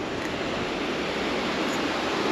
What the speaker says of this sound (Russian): Вот такая вот река.